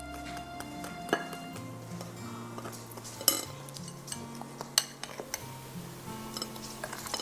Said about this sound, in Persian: کم کم اضافه میکنم، هم میزنم